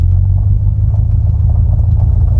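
A 1956 VW Airstream pulling away, its engine giving a steady loud low rumble close by, with no talk over it.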